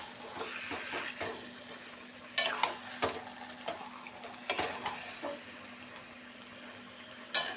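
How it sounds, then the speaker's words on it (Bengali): Taro leaves cooking with garlic in a pan, stirred now and then: a steady low sizzle with several sharp scraping and clattering strokes of the spoon against the pan, close and moderately loud, no talking. "কিছুক্ষণ পরপরই কচুর শাকটা নাড়তে হবে, নাহলে নিচে লেগে যাবে।"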